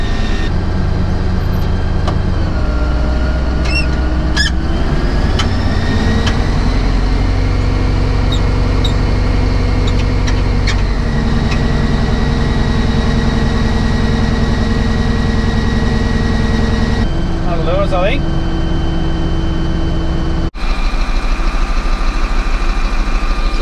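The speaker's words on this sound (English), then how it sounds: "All of the load from the engine's going through the torque converter at the minute" CAT D11 bulldozer engine working under load, a loud, steady, deep diesel drone heard close up with shifting tonal whine and occasional clanks, and no talk.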